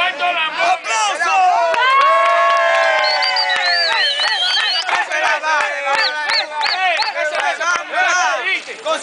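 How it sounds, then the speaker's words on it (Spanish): Political rally crowd in San Francisco de Macorís, Dominican Republic, cheering and shouting loudly throughout with whoops and applause, voices mixing into a dense, continuous roar. "¡Aplauso!"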